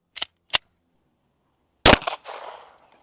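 A 9mm pistol fires at a cinder block wall outdoors: two small sharp clicks first, then one loud crisp shot whose echo decays over about a second.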